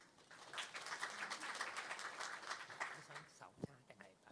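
An audience at an ICT awards briefing in Hong Kong applauds to welcome a speaker, a moderate, even patter of clapping that thins out near the end as a voice briefly cuts in.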